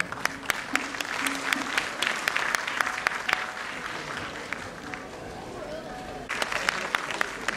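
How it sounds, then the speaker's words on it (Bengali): A hall audience at a Nijoshyo Communication function gives sustained applause to welcome an artist, dense clapping with sharp individual claps standing out, lasting the whole stretch with a brief softer dip midway. "একটা জোরে করতালির মাধ্যমে"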